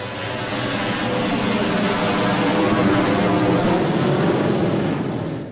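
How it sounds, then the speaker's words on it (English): Helicopter arriving in the Half-Life game: a loud, dense roar of rotor and engine noise that holds steady and swells slightly toward the middle, filling the whole stretch without talking. "The helicopter comes in, you're fighting the helicopter, which is awesome."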